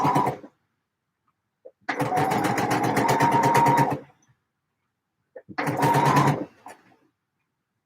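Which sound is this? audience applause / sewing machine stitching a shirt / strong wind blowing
sewing machine stitching a shirt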